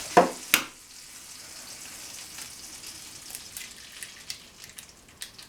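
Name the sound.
egg frying and foaming on a cookie sheet over Sterno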